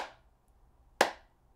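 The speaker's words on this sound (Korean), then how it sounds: "이렇게 박수를" A single sharp hand clap in a room, struck to test how the space rings, with a short decaying tail, following the fading end of an earlier clap.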